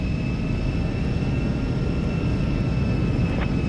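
A Piper aircraft engine at takeoff throttle, a steady, loud droning roar with a constant high whine, heard up close from the cockpit and alone, with no talking.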